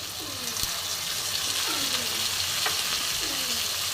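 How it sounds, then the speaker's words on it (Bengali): Ginger paste tempering fries in a hot pan for a vegetable coconut curry, giving a steady broadband sizzle with faint stirring scrapes and a soft voice murmuring underneath. "খুব সুন্দর ভাজা ভাজা হচ্ছে ফোড়নের আদা বাটার সাথে"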